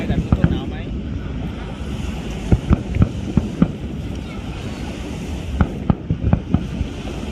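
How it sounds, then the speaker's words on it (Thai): Ocean waves wash steadily onto a beach in Pattaya, Thailand, under strong wind buffeting the microphone, with occasional sharp gusts and pops. "ได้ยินเสียงคลื่นนะคะ"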